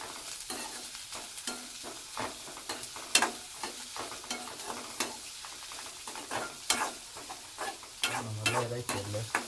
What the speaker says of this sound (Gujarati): આને છે ને આપણે હલાવવાનું છે ખાલી